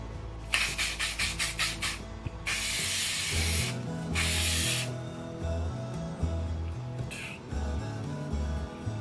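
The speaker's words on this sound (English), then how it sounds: "So I'm going to spray my got-to-be glue." A can of spray glue rattles in quick shakes, then long hissing sprays burst out twice, followed by a shorter final spray; music plays softly underneath.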